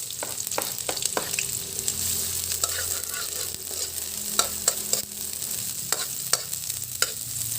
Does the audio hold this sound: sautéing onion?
yes